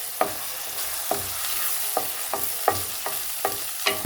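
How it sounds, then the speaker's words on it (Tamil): Curry leaves sautéing with onion and tomato in a pan for a bitter gourd poriyal, a soft steady sizzle broken by sharp spatula scrapes and taps roughly every half second. "கருவேப்பிலை சேர்த்து லேசாக வதக்கி விட்டுக்கோங்க."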